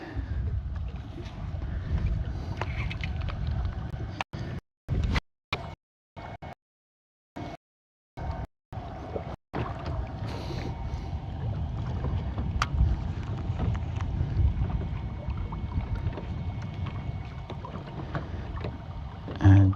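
Steady wind buffeting a boat while bass fishing on Lake Guntersville, a continuous low rumble of gusts against the microphone that drops out briefly with a few gaps, then resumes loudly to the end.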